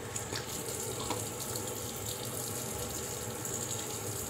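Tap water runs into a sink for rinsing off after a shave, a faint, steady hiss and splash that continues evenly without any voices.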